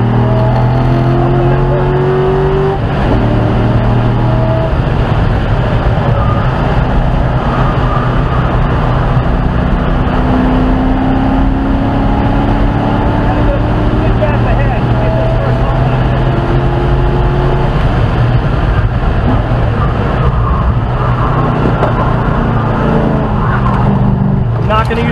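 A 2006 Chevrolet Corvette C6 races around a track in an SCCA time trial, its engine loud and close throughout, rising and falling through gear changes and steady high revs, with brief tire noise.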